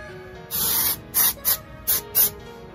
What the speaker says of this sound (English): I just want to add some dry shampoo just to be safe.